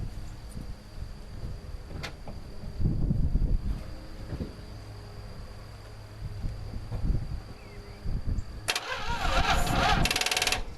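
A 1969 Dodge Dart's stuck 273 engine cranks slowly and sluggishly on a weak jump pack in a few laboured bursts without catching, over a steady background hum.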